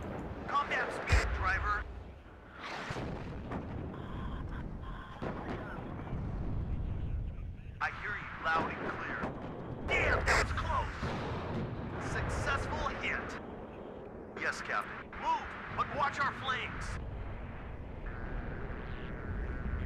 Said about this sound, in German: Die Artillerie von ihm stört schon.